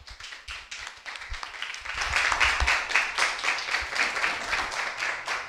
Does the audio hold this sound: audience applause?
yes